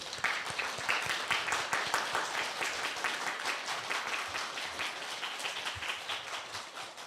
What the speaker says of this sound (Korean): 다들 일어나서 박수를 맞이해 주시죠